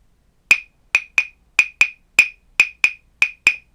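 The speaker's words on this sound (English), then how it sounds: "a variation or an embellishment of the tresillo called the cinquillo" Ten sharp percussive taps in a syncopated cinquillo rhythm, crisp and bright with quick decay, played alone in a clean, quiet space.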